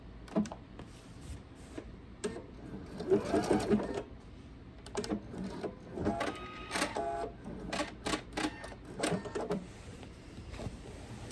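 Sewing machine stitching quilt binding, locking stitches in place with short forward and back bursts, a series of close, intermittent mechanical whirs and taps, with no voices over them.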